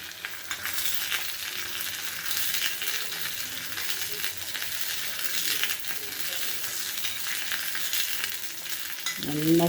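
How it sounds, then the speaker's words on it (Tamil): Neem flowers sauté in hot ghee in a pan, a steady broadband sizzle running throughout at close range with no talk, a brief clink or scrape near the end. "அந்த நெய்லேயே இதே வதக்கணும்."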